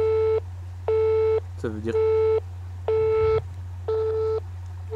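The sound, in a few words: telephone line tones while calling Webedia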